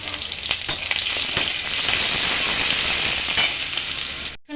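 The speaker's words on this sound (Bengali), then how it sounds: "কড়া গরম হয়ে গেছিলো, দিয়ে দিয়েছিলাম তেল, আর দিয়ে দিচ্ছি পেঁয়াজ" Onion dropped into hot oil in a heated pan crackles and hisses loudly and without a break, with a few faint stirring scrapes, then cuts off abruptly at the end.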